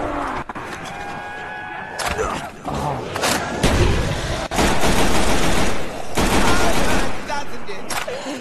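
A semi-automatic gun fires in the Black Ops zombies map Der Toten, played with a Renaissance mod: close, loud shots come in quick repeated bursts with brief pauses, and a voice is faintly heard.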